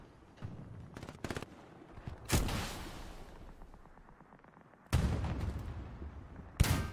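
A tank shell fires in the World War II shooter Hell Let Loose, a sharp heavy boom around two seconds in, followed later by two more loud blasts amid scattered distant battlefield gunfire.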